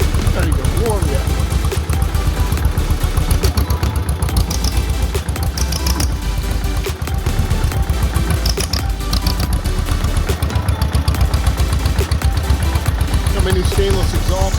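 Steady low idle of a John Deere M tractor engine fitted with a new stainless exhaust, a constant close rumble with dense low pulsing and no pauses.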